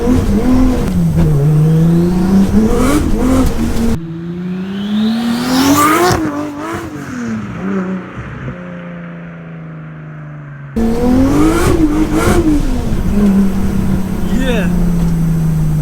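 A 700 bhp Nissan Skyline R33 accelerates hard on a winding road, its engine note sweeping up and down through the revs, loud and close inside the car, with the sound shifting sharply in character partway through.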